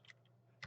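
Quiet computer keyboard key presses sound as a couple of soft, brief clicks spaced apart, with a slightly stronger tap at the very end over a low background hum.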